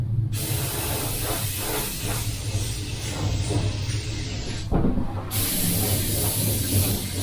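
An aerosol can sprays a light mist of paint colour close to a weld on a steel piece: a near, steady hissing spray that runs almost continuously, broken by one brief pause, with no talking.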